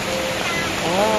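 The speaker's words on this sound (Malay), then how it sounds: "Air sungai melimpah-limpah lagi." A swollen river rushes loudly during rain at a campsite in Janda Baik, Malaysia, a dense, continuous roar of water close by with faint voices.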